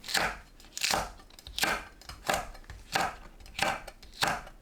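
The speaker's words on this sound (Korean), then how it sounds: "파, 청양고추, 홍고추를 어슷 썰어주세요." Green onion, green chili and red chili are sliced diagonally with a knife, making seven evenly spaced crisp chops on a board, close and clear, with no voices.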